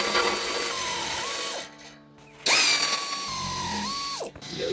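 Power tool tightening heat shield bolts on a Jeep Gladiator JT exhaust, heard as close, high-pitched whirring bursts separated by a short pause.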